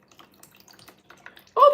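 Water drains out of an overwatered seed pot into a second pot, faint scattered drips and trickles that end in a louder splashing pour.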